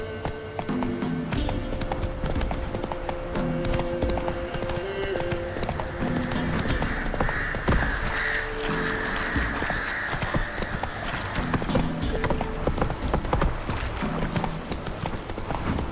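Roach the horse gallops in The Witcher 3: Wild Hunt, a steady, close clip-clop of hooves running throughout with a brief whinny, under game music and spoken character dialogue.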